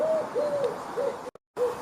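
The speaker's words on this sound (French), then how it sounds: "La tourterelle, qu'est-ce qu'elle peut bien faire," A European turtle dove coos, giving a series of soft, purring low-pitched notes in quick succession, close and steady, broken by a brief pause before one more note.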